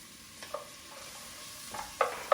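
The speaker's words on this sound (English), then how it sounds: "Just gonna stir that and saute that until it's nice and tender." Sofrito of onion, carrot, celery and garlic sautéing in a pot with a steady soft sizzle, and a spoon scraping and stirring in a few brief bursts.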